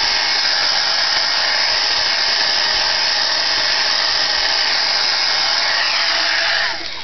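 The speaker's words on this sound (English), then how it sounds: "heat set them with the heat tool" A heat tool blowing over dyed muslin fabric flowers, a loud, steady whooshing fan roar held close for several seconds before it starts to wind down at the end.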